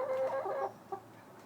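A hen clucks close by, a drawn-out tonal cluck followed by a short softer cluck, fairly quiet, with no talking.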